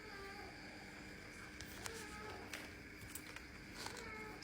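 A cat meows in a quiet home during the pre-dawn sahur meal, a few short faint cries standing over soft room noise.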